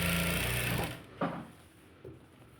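A sewing machine stitching the edge of a katori blouse runs in a short, fast buzzing burst and then stops, followed by a couple of small mechanical clicks.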